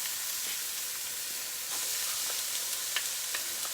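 Peppers and vegetables hitting a hot pork stew pot, a steady close sizzle and frying hiss with soft stirring scrapes and small pops, no voices.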